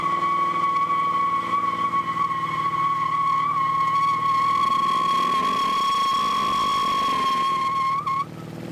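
An LS-swapped Ford F1 truck engine runs at a steady high pitch with a sustained squealing whine like spinning tires, loud and continuous, then cuts off sharply near the end.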